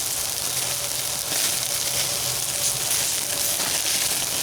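Burgers topped with cheddar and Swiss cheese searing on a hot Lifedoo Urod Fire Pro grill, giving a steady, close broadband sizzle and hiss that runs unbroken throughout.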